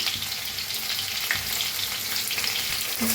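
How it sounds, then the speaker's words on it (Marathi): Potato and eggplant pieces frying in a pan, a dense, even sizzle with occasional stirring scrapes, heard up close with no talking. "छान असं मिक्स करून भाजून घेऊया"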